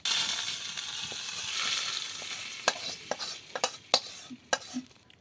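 Hot spiced oil tempered with whole cumin poured into a taro curry gives a loud, steady sizzle and hiss, then tapers into scattered pops and stirring clatter, close by and with no talk.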